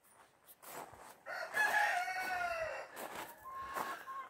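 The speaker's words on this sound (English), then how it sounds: "there's the rooster." A rooster crows once, a long rising then falling call fairly close by, with a few softer clucks and bird sounds around it.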